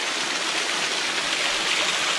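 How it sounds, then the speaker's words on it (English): A small waterfall along an Adirondack mountain stream, one of a series of little falls feeding a pool, gives a steady, close, full rush of splashing water with no talk over it. "Just a little waterfall."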